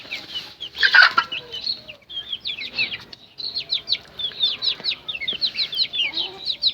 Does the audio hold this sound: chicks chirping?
yes